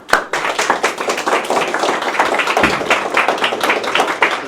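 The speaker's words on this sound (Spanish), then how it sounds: "A Rubén, por favor, un fuerte aplauso." A studio audience gives a guest steady, dense applause at a talk-show panel on Freemasonry and Christianity. Close, continuous hand claps last the whole time with no pause.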